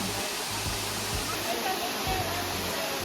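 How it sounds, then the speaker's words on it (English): Waterfall on Maui roaring as a steady, dense wash of falling water close by, with a voice speaking over it. "We're here at the waterfall."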